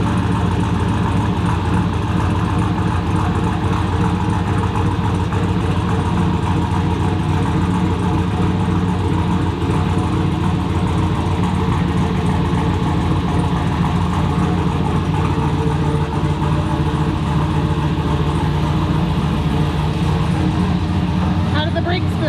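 A car with a newly fitted exhaust heard from inside the cabin, a loud, steady low engine drone and rumble holding constant throughout with no pauses.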